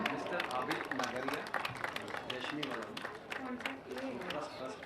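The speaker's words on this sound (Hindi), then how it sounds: "जोरदार तालियां" A kavi sammelan audience in a Navi Mumbai residential complex applauds, with sharp, irregular claps from a moderate crowd heard close by while people keep talking over them.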